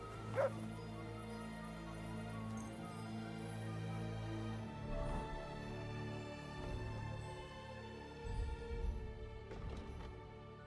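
Dog yips, barks and whimpers in Kingdom Come: Deliverance II, a short yelp near the start followed by scattered whines over a steady game ambience, with no talk.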